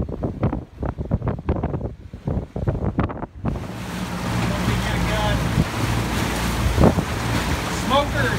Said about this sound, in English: We had heavy winds, 20 to 25 knots of wind,